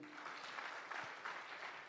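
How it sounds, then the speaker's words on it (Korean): Many hands clap together in a church congregation, a continuous, even wash of applause with small pulses and swells, moderately loud and sustained throughout. "박수 쳐줘요."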